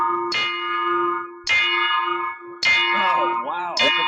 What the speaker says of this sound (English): I forgot how loud that bell was